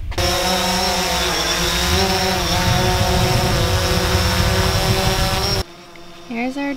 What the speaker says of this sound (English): Here's our drone.